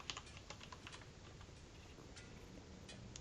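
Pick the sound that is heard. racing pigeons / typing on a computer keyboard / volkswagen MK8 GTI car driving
typing on a computer keyboard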